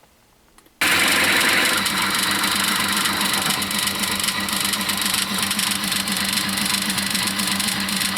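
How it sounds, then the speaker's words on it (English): A Myford ML7 lathe drills an entry hole in a block of wood. After a quiet opening second a loud, steady mechanical whirr and grinding drone starts and carries on without a break. "So that's my entry hole drilled."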